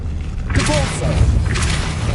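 A Depulso spell cast in Hogwarts Legacy gives a loud burst with a thump at about half a second, then a sustained whooshing, rumbling blast. A second bright surge comes near the end, with no talk over it.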